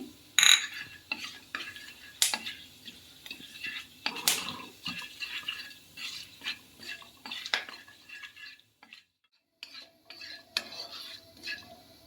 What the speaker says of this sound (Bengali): এবার আমি ফোড়নে দিয়ে দিচ্ছি ওই গরম মশলা দারচিনি লবঙ্গ এলাচ আর গোলমরিচ